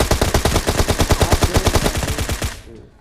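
Rapid automatic gunfire in the video game PUBG Mobile, a close, loud burst of about twenty evenly spaced shots over two and a half seconds, then fading out.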